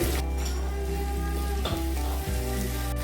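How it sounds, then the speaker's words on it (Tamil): Chopped tomatoes with rock salt being sautéed in a pan for a parotta salna gravy, a steady close sizzle with a couple of brief stirring scrapes, no voices. "இப்போ இதை சேர்த்து வதக்கிக்கலாம்"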